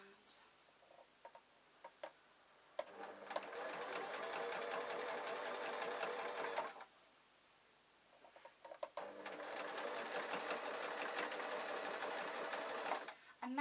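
A sewing machine running slowly over the pleats of a baby kilt with an elastic waistband, whirring steadily in two long stitching runs separated by a short pause, close and clear, with faint background sounds before it starts.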